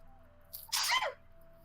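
A single sharp human sneeze, short and fairly loud, bursting out of a quiet room with a faint steady hum in the background.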